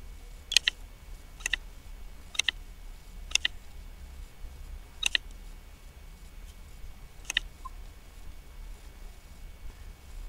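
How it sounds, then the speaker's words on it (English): Six sharp, isolated keystroke clicks on a computer keyboard while an email address is entered into Gmail, spaced irregularly over a quiet background with no talking. "Now here I will type the email address of Arun to whom I want to send this"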